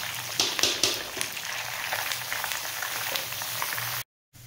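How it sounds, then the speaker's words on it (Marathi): Crushed garlic frying in a pan sizzles with a steady, close crackle and a few sharper pops near the start, then cuts to silence at the very end. "आपला लसूण छान भाजून झालेला आहे"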